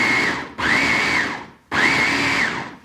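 An electric blender purees meat with scallion, ginger, egg white and starch into a fine paste, running in two loud sustained bursts with a short pause between them.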